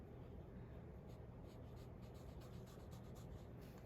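A brown alcohol marker with a chisel nib colors in a stem, giving a faint continuous scratchy rubbing of nib on paper with soft strokes and no voice.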